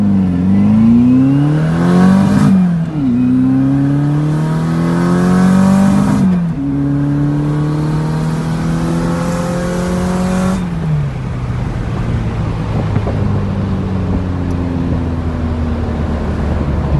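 A turbocharged 1971 VW Beetle with a 2.0 engine revs up loudly through several rising gear pulls, with brief drops between shifts as it launches hard from a standstill, then settles into a steady, fading drone. Nobody talks over it.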